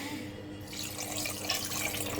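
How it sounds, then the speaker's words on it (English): Water is poured into a pan of sugar to make syrup for Portuguese custard tarts. After a brief quiet moment, a steady splashing pour begins and continues evenly, close by, with no talking. "add the water, and also add the cinnamon sticks"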